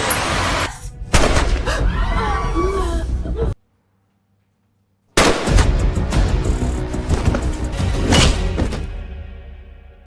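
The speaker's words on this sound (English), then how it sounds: "Terrified, some players attempt to flee but are shot dead by the other guards." Gunfire from guards shooting fleeing players in the movie The OctoGames: loud, dense bursts of shots and thuds, broken by a sudden gap of silence before another heavy volley that fades toward the end.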